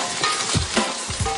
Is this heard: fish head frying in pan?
yes